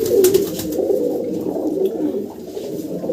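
Makoya pigeons in a keeper's loft in Jhajjar district give a steady, low, throaty cooing that carries close and continuous, with no talking.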